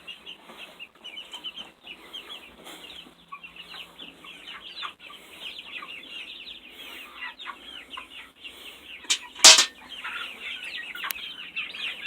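Chickens on a backyard farm cluck and chatter steadily nearby while feeding on green chickweed, with a brief louder squawk near the end.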